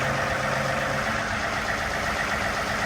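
A John Deere tractor engine idles steadily, a continuous low rumble holding at an even level throughout with no voices over it.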